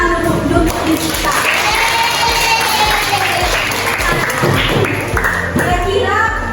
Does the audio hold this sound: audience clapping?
yes